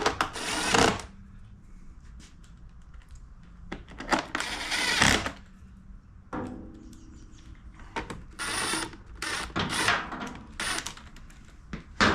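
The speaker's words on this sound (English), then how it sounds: "Get the 4 screws back in this front panel." Screws driven back into the front panel of a Predator 2000 watt inverter generator that has been sitting and won't crank, with several short buzzing bursts of a driver separated by pauses and handling noise.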